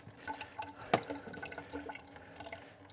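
Water runs and drips while a plastic fluid extractor straw is rinsed out under a lowered-pressure warm tap, with a brief louder splash near the start amid steady trickling.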